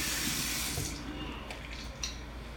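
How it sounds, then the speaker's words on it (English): Tap water runs steadily into a bathroom sink while someone washes their face, loud at first and then fading into softer splashes and drips. "I'm still washing my face"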